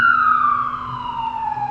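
A police car siren wails loud and close, one steady tone that slowly falls in pitch, with a low engine hum underneath and no other sounds.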